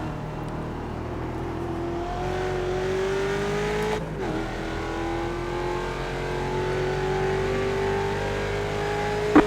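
A Ford Mustang race car in iRacing at Mid-Ohio accelerates hard, its engine note climbing steadily through the gears with a brief shift dip midway, loud and continuous with no talk.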